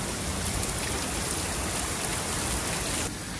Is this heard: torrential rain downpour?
yes